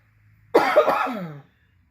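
A single harsh cough from a person recovering from COVID, close and loud, followed by a short rasping tail, with silence around it.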